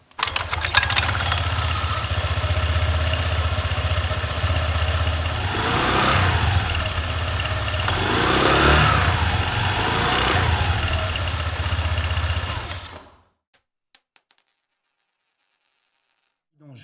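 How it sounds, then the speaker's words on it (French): A 2017–2020 Honda SH 125i scooter idles steadily with its transmission cover open, a close, even mid-pitched engine hum that swells briefly before cutting out, followed by a few faint metallic clicks. "On va démarrer le moteur avec le carter ouvert pour s'assurer que tout est bien en place."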